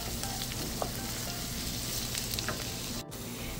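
Tomato sauce for chicken parmesan sizzles in a hot pan with a steady, close crackle and a brief clink partway through.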